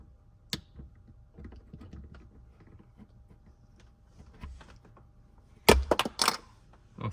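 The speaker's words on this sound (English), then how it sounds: "We'll go ahead and use the flathead screwdriver again" A flathead screwdriver prying open a Tesla Cybertruck mirror cover: faint scattered clicks and scrapes, then a sharp, louder cluster of snaps near the end as the clip releases, with no talking.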